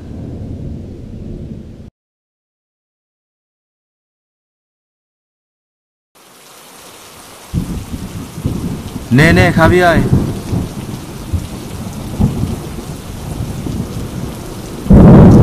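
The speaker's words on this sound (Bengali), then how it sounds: "যে বৃষ্টি পড়ছে" Heavy rain pours with loud rolling thunder in a rural setting. After a short silent gap, the downpour returns as a dense, steady roar with a booming thunderclap, and a voice speaks briefly at the start.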